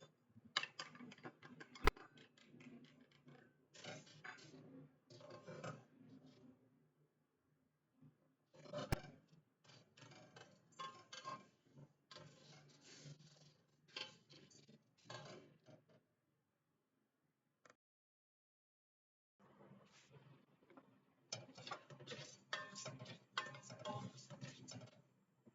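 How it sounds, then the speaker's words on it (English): Sevaiyan vermicelli dry roasted in a pan without ghee or oil: dry, crisp scraping and rustling in bursts with brief gaps, fairly quiet and close, no talking. "I can now dry roast the sevaiy more."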